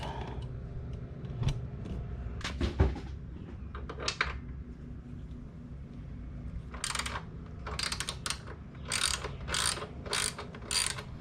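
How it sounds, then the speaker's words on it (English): Ratchet clicking as a 1/2 inch bolt is worked loose on a 2022 Harley-Davidson Road Glide, quick bursts of pawl clicks in several runs, growing more rapid and steady toward the end, close up with no talking. "There's a 1/2 inch bolt right there, and there's also one on the other side. So we'll see if we can get that off."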